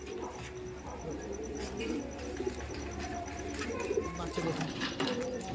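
Soft, low cooing of young pigeons in a loft repeats in gentle rolling phrases, with faint chirps and quiet rustling in the background.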